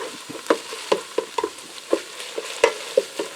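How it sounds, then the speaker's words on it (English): Ground beef and onion sautéing in a Ninja Speedi, stirred with a utensil that scrapes and taps the pot in an uneven rhythm of about a dozen strokes over a faint sizzle, near and without speech. "I'm going to stir that around in there. We're going to soften that onion up in the ground beef."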